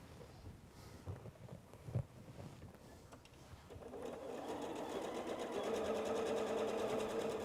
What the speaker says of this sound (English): So I'm going to sew these 2 blocks together.